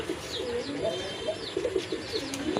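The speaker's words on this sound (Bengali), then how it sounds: "আরেক জোড়া কবুতর এটা কিন্তু আপনার দেশি কবুতর" Several native (deshi) pigeons coo softly in overlapping, repeated throaty calls, close by, with light chirps and background murmur underneath.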